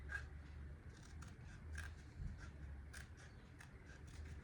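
Quiet, repeated snips of scissors trimming small nautical decor pieces, a handful of crisp cuts spaced roughly every half second over a low background hum.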